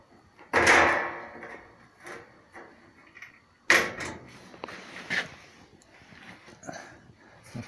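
A homemade metal floor pan for a Simca is refitted over its bolts, giving two loud metallic clanks a few seconds apart followed by lighter scrapes and knocks as it settles into place.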